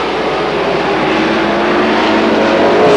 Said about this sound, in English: They blast out of 4 and down the front straightaway